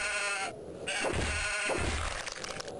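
A sheep bleats in the video game Hexen II, a short wavering cry up close followed by cracking, crunching impacts.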